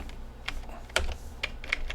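Someone types on a computer keyboard while programming, several separate key clicks at an uneven pace, close and fairly quiet, with no talking.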